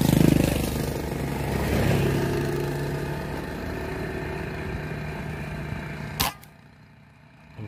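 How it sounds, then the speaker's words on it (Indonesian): A motorcycle engine rumbles close by and then fades as it passes, ending in a sharp click followed by near quiet, with no talk. "Ini sebentar ada motor dulu."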